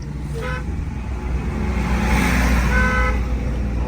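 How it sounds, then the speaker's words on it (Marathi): Repeated car horn honks, two short bursts early and a longer one near the end, over a steady engine and road rumble. "horn they"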